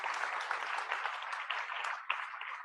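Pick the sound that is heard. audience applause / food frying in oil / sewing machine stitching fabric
audience applause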